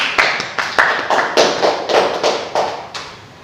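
A classroom claps in unison during a microteaching lesson, about ten sharp, evenly spaced rhythmic claps, close and loud, with no talk over them.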